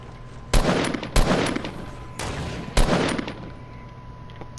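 Video game gunfire comes in four loud, close bursts of rapid shots separated by short pauses, harsh and sharp over a low background hum, with no talk.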